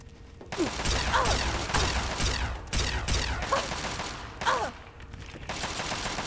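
Gunshots in the video game Fallout 3 ring out as a series of sharp, loud blasts spaced about a second apart, each with metallic mechanical clatter between them, with no talk.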